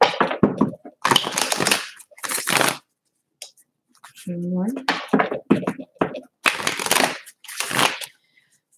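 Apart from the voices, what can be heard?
shuffling tarot cards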